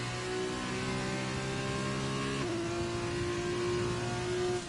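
F2 race car engine in a racing video game, held on throttle at a race in Australia: a loud, steady high-revving whine with one quick gear-change dip midway, continuous and without voices.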